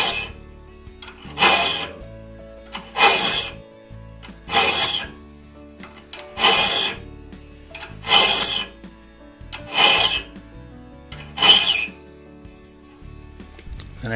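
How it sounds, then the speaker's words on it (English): A hand file rasps across the raker teeth of a one-man crosscut saw during sharpening, in seven evenly spaced strokes with short quiet pauses between them, close and clear. "File off the raker teeth until they're 15 thousandths below the surface."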